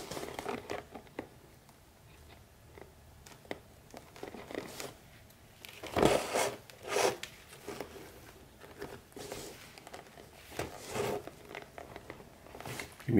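Hand stitching a leather center-mounted bike bag through its zipper, heard as scattered rustles, crinkles and sharp pulls of thread and leather, some louder bursts in the middle, with no talking.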